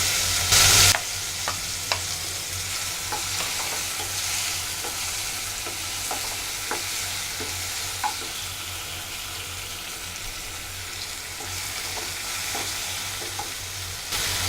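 Green chillies, tomatoes and onion frying in a pan sizzle steadily at close range, with occasional clicks of stirring and a brief louder clatter at the start.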